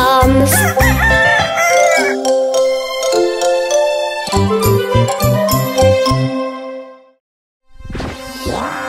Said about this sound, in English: Hear the cockle-doo of the rooster loud everywhere, like the ringing of alarms.